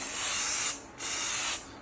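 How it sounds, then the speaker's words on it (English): Sealant sprayed from a shaken aerosol can onto window trim: two close, loud hissing bursts of spray, the first about 0.7 seconds long and the second a bit longer, separated by a brief pause. "give it a good spray"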